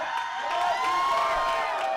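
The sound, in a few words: wrestling crowd cheering for Big Money Marconi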